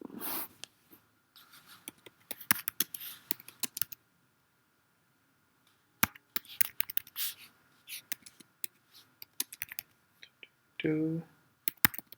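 A computer keyboard types out a home address on an online UK visa application form, with sparse bursts of close, crisp key clicks separated by pauses, and a short spoken phrase near the end.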